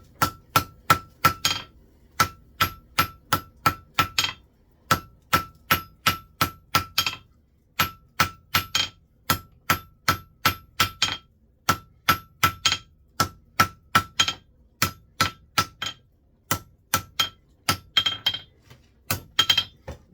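Hammer blows ring out on steel dividers during a drop tong forge weld at welding heat, loud and close in rapid bursts of several strikes separated by brief pauses, each hit a bright metallic clang off hot steel and anvil.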